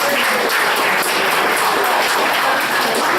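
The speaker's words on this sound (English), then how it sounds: "Give him a round of applause one more time." A crowd at an evening event applauds the speaker Thomas McKenna, dense and loud clapping holding steady throughout.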